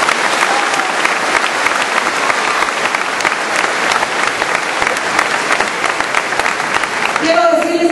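A crowd of agricultural producers in Michoacán breaks into strong, sustained applause for the state governor at a public event, dense clapping filling the whole stretch before it starts to fade at the very end.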